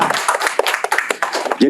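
Audience clapping at a talk about Indonesian music, a quick run of close, fairly loud claps lasting under two seconds, with a voice heard at the end.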